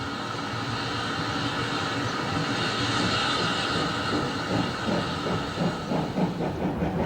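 A 1958 steam train pulls away from the arrival platform of a junction station. A steady hiss and rumble fill the air, and rhythmic beats grow more distinct toward the end. No one speaks.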